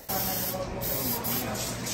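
Butter or oil spray hissing from a can onto a roasting chicken, one steady close spray lasting about two seconds.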